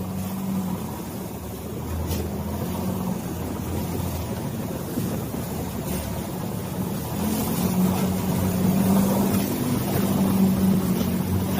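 Steady drone of a boat engine that is smoking and struggling on the way to a distant island, continuous and fairly loud, mixed with wind and water rush, growing slightly louder toward the end.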